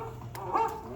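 An animatronic dog in Disney's Carousel of Progress show gives a short yip or bark. It sounds once briefly at moderate loudness against the theater's background hum.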